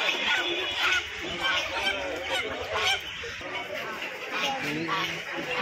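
Poultry at a busy market call out in honking, squawking bursts, with golden chickens and ducklings packed together, steady and close under a layer of human chatter and voices.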